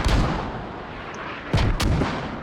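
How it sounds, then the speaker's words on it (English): Mortar rounds landing in a video game battle, a loud rumbling explosion at the start followed by two more sharp, booming impacts close together near the end, with a sustained low rumble between them. "The mortars are coming in from Northwolves right now on that southern fob"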